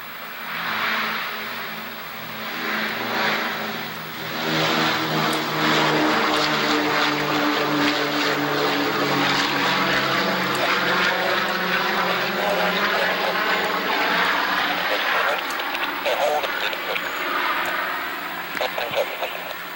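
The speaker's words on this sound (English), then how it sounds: "as we watch this B-17 Flying Fortress take off" B-17 Flying Fortress propeller bomber taking off, its multiple piston engines roaring loud and steady with a rising, shifting drone that continues throughout the clip.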